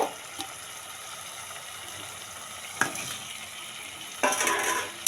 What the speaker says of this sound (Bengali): ভেজে রাখা আলুগুলো দিয়ে দিলাম।